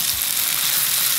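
Eggplant fries in a pan, a dense, even sizzle and crackle filling the whole moment, close and fairly loud with no talk over it.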